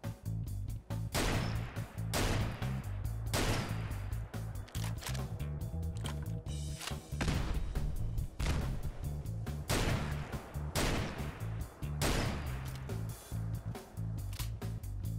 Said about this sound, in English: take note of the animation and sound effect as I fire the Chiappa shotgun